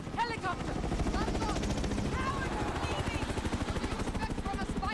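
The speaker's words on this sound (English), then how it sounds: "Helicopter." A helicopter in Modern Warfare (2019) thumps with a rapid, steady rotor beat beneath game chatter and scattered gunfire.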